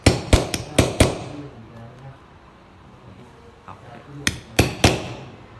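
Sharp hammer strikes drive a rivet into a leather wallet, a quick series of four or five close metallic knocks, a quiet pause, then another cluster of three or four blows.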